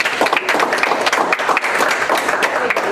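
A round of applause from a gathered group thanking a staff member and her team, with many hands clapping in a dense, uneven patter that stays close and loud throughout.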